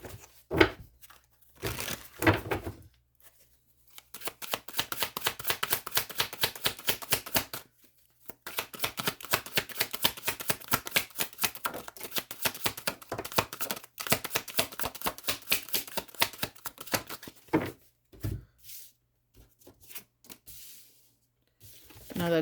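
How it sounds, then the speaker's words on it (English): Oracle cards shuffled by hand, long runs of rapid, crisp riffling flutters close to the microphone, broken by short pauses and taps. "Let me go ahead and get some oracle cards out"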